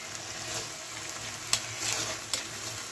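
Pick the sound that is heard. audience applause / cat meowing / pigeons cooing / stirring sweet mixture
stirring sweet mixture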